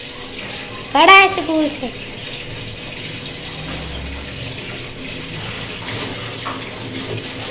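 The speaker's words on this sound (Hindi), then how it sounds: "मैंने कहा कि भिंडी धोकर ना इसे उसमें रखूँ छन्ने में" Okra is washed under a running kitchen tap, a continuous close gush of water that lasts throughout, with a brief spoken question near the start.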